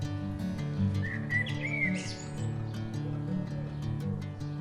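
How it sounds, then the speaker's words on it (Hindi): Birds chirp and tweet in short bursts over a steady humming drone, moderately close and fairly soft. "चिड़िया की आवाज सुनो"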